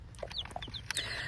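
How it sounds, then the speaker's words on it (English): Several quick, high-pitched peeps and chirps from small chicks, close by and fairly faint, scattered over a second or so. "We have little baby chicks."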